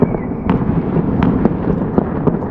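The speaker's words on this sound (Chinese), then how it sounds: "天还没黑呢呀，就开始放烟火了。" Fireworks and firecrackers go off nearby during Lunar New Year celebrations in a residential area at dusk, a rapid series of sharp bangs and crackling bursts over a dense, rumbling background of further explosions.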